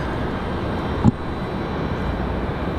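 Airplane moving on the ground at Raleigh-Durham International Airport, a steady broad engine roar heard from a distance, with a small knock partway through.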